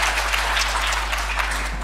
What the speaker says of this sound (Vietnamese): Hãy vỗ tay cho Đức Chúa Trời chúng ta.